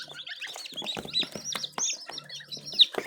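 Farm-bred chicks, sold as day-olds alongside goslings, give off a busy stream of high cheeps and peeps. A few hens cluck close by, and the sound has no pauses and no talking.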